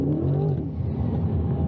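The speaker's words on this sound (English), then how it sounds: "Now just listen to that V8." The V8 engine of a Corvette C8 revs hard toward redline, a loud close throaty roar with a rising then settling tone over under two seconds.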